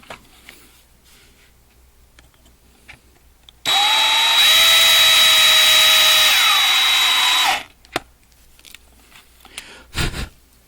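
Power drill boring out the rivets of a 1/64 scale diecast car: a loud, steady high whine starts abruptly, holds for about four seconds, then winds down, followed by a few faint clicks and handling knocks.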